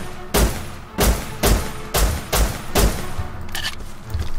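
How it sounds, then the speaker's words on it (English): Gunshots from the survival game Rust, six sharp loud single shots in a steady rhythm about half a second apart, followed by a fainter tail of shuffling noise. "Did he just try shooting you again?"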